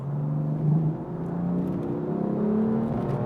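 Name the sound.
2017 BMW M4 engine accelerating in automatic mode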